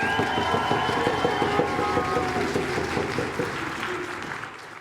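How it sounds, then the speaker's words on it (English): An audience at a heritage celebration applauds a young honors graduate from a children's multicultural dance group, with warm sustained clapping and some cheering that tapers off near the end. "I think we should give her another round of applause"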